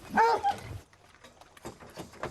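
Hunting dogs in a kennel at feeding time let out one sharp yelp-bark up close, then softer whines and yips follow quietly.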